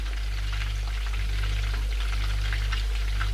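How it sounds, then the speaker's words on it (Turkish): Steady, dense sizzling of meatballs frying in hot oil, with a constant low hum underneath and no talking. "Şimdi en son köfteler kaldı. Onları da kızartayım."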